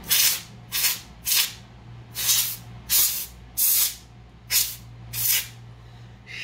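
Eight short, sharp bursts of hissing spray in an uneven rhythm, each lasting about half a second, with a steady low hum beneath.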